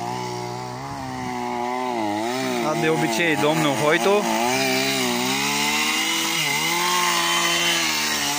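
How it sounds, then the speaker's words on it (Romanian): A chainsaw cutting through a tree trunk, loud and close with a droning engine whose pitch rises and dips as the blade bites into the wood, while someone speaks over it. "Drujba lui ce merge."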